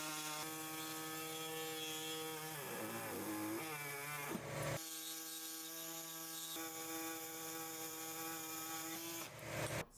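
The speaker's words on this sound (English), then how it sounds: "Make a cut on both sides of the carrier frame." Power tool cutting both sides of the driveshaft carrier frame on a Mercedes R230 SL55, a steady loud high-pitched whine that drops in pitch mid-cut as it bites, then briefly cuts out before resuming, with no talk.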